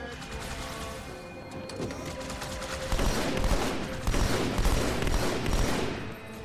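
Battle rifle fire in Halo 2, quick bursts of sharp cracks growing louder and denser midway, mixed with crashing impacts and other game effects.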